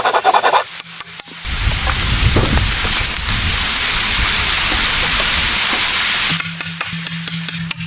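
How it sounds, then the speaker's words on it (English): A saw cuts through thick wooden beams for a cabin floor frame, a loud continuous rasping that runs for several seconds, with short knocks and handling sounds before and after. "He carefully measured and cut thick wooden beams"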